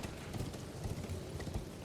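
Horse galloping in the video game Elden Ring: a quick, steady run of muffled hoof thuds, soft and low in the mix, continuing for under two seconds with no voices.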